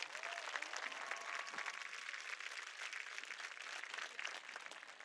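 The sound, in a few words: graduation audience applause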